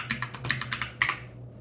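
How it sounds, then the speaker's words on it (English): A loud computer keyboard clatters under quick typing, a rapid irregular run of sharp close keystrokes with a brief pause near the end before another key hit, over a faint low hum. "Sorry if the keyboard's really loud."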